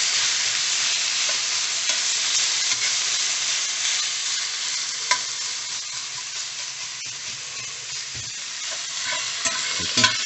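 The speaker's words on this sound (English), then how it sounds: "We're going to brown the bacon so it's almost done" Bacon browning in a pan gives a loud, steady, close crackling sizzle throughout, with occasional faint pops and stirring clicks and no voices.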